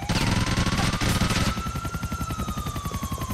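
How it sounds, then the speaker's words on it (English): A police helicopter in the video game GTA 4, its rotor thumping loud and close in a steady rapid pulse, with a whining engine tone and bursts of gunfire over it at first. "that chopper's back"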